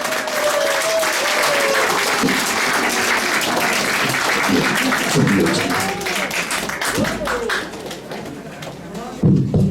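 A large crowd applauds steadily for several seconds at a political campaign office opening ceremony, a dense, loud wash of clapping with a few voices calling out above it.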